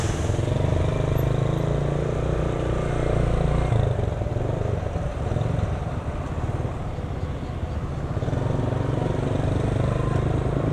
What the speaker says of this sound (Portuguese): A única coisa que tem é moto.